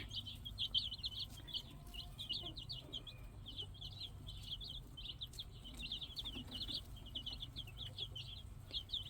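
Many small chicks cheep and peep in rapid, overlapping bursts, high-pitched and steady throughout, over a low background hum.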